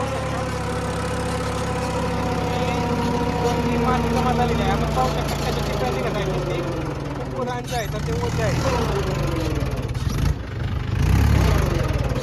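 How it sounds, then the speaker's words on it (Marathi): A tractor engine chugs steadily under heavy strain in first gear while pulling a cultivator through a field, its low drone rising in a heavy rev near the end, while someone talks over it. "ट्रॅक्टर फर्स्ट गिअरला सुद्धा खूप लोड जात आहे"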